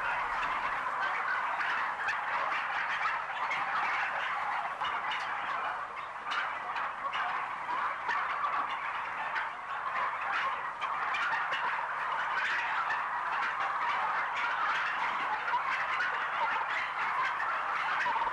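A dense crowd of farmed turkeys gobbles continuously, an overlapping chattering din of many birds filling an enclosed rearing shed.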